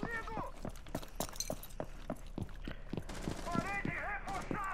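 Gunshots ring out in an online shooter game, a run of sharp, evenly spaced cracks firing close and loud amid game sounds, while voices talk over them.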